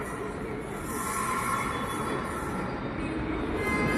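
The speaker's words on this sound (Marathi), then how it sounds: "ट्रेन आली बघा." A Pune Metro train pulls into the station with a steady, close rolling rumble and hum of wheels on rail that continues throughout without pause.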